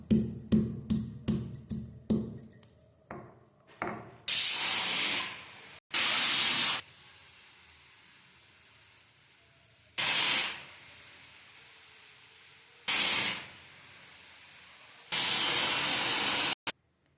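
A few quick taps at first, then loud bursts of steam hissing from a pot of cooking dal, each lasting a second or so, separated by quiet gaps.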